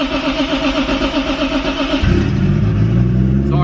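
A Toyota Supra MK4 engine idles with a rhythmic churning, then catches and fires up into a louder, steady, tractor-like running rumble.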